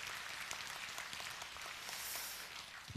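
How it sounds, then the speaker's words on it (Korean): A church congregation claps together after a Sunday morning service prayer, a faint, fairly even patter of many hands sounding distant and soft throughout. "하나님께 영광의 박수 올리겠습니다"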